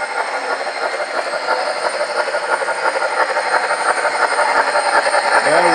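A model steam locomotive emerges from a tunnel with a steady mechanical chuffing rumble that gradually swells louder as it approaches, with no talking.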